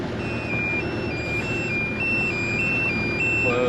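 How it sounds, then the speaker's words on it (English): A sailboat's autopilot sounds an alarm at maximum rudder angle: a steady electronic tone that steps between pitches in a repeating pattern, running continuously over a constant rumble of wind and water. "the alarm on the autopilot's warning me that it's hit its maximum rudder angle"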